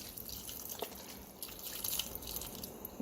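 Low sodium organic beef broth is poured from a quart carton into a soup pot, a steady close liquid splashing and dripping wash throughout, no talk.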